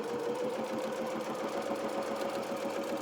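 A sewing machine runs close and steady, sewing straight down the edge of a small coat, with a fast even needle rhythm over a constant motor whine and no pauses or voices.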